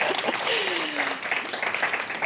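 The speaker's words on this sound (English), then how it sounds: "Yes, round of applause." An audience applauds at a live art performance and artist talk: a sustained wash of clapping from a crowd, with a voice or whistle-like tone gliding briefly over it.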